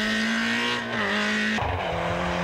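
A BMW M3 rear-wheel-drive rally car on a stage at full throttle, engine note holding high then dropping with a gear change, tires squealing, loud and continuous with no talking.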